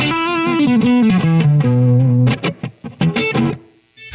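A Blackstar HT Stage 100 MK III 100-watt amplifier on its mid-gain distortion channel plays a loud, gritty electric guitar phrase, with sustained bending notes and then short choppy chords that cut off into brief silence.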